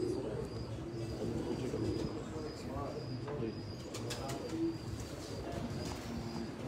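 Soft coos from breeder pigeons repeat in a low murmur over a busy background of voices and rustling, with occasional faint chirps.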